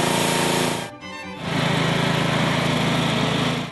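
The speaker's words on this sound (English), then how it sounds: "the court will be pressure cleaned using at least a 2500 PSI pressure cleaner." A 2500 PSI pressure cleaner washing a tennis court surface ahead of resurfacing, giving a loud, steady engine-driven spray drone that drops out briefly near the start, then resumes.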